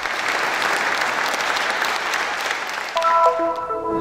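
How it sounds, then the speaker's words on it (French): Concert audience in Rhodes applauding, a dense, sustained burst of clapping heard up close and alone, briefly swelling near the end as a few bright tones ring over it. "Le public de Rhodes les a accueillis par des applaudissements nourris et des signes de solidarité."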